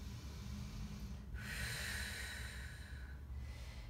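A forceful exhale pushed out hard through the mouth or nose during a fast-flow breathing exercise, a single strong breathy rush lasting about two seconds, close and loud over a low background rumble.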